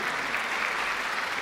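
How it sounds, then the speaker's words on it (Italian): Steady, dense applause from an audience at a cultural folk event in Ollolai, Sardinia, filling the space evenly and loudly for the whole stretch with no voices standing out. "un applauso forte"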